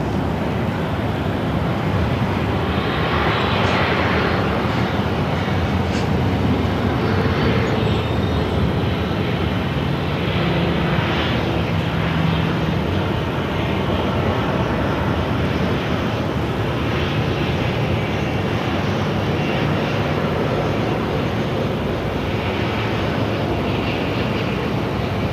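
A Southwest Boeing 737-800 arriving at Phoenix Sky Harbor and taxiing toward the terminal, a steady, loud broadband engine roar that holds evenly throughout with no talk.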